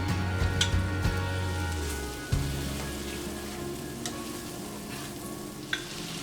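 Chopped garlic and green chili frying in butter, a constant dense sizzle with a few spoon knocks against the pan, close up and free of talk.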